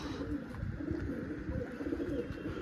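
Low, soft cooing of pigeons repeating steadily close by, a murmuring throaty rumble with no talking.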